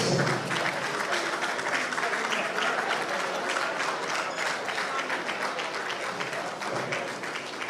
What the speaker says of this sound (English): I believe the Honorable Minister is that of the sound of the round of applause.